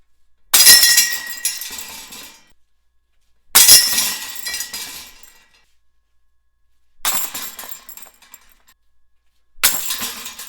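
A disc golf basket with no silencer is struck by thrown discs four times, each impact a bright, loud jangle of metal chains that rings and rattles for a second or two before fading into quiet.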